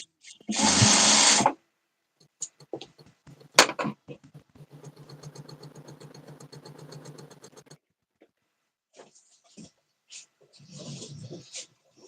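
A sewing machine stitching quilt pieces for an October calendar quilt, a close burst of rapid whirring followed by a longer steady run of needle chatter, separated by quiet pauses and a few clicks.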